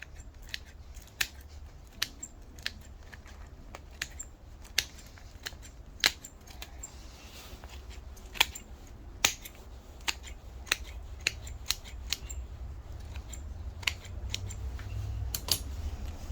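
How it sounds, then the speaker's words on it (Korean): Scissors snip through the roots of a potted wisteria during repotting, sharp crisp clicks coming irregularly about every half second to second, up close over a low background rumble, with no talking. "가위가 잘 안 되네."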